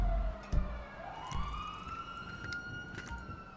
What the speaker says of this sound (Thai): ได้เสียงรถตำรวจ